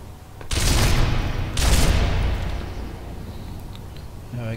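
PPSh submachine gun firing in Sniper Elite V2: two loud, close bursts of rapid automatic fire, each about a second long, with a short gap between them and a fading tail after the second.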